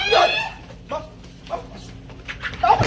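A dog gives a few short yips and whimpers, spaced apart and fairly close, with a little background noise between them.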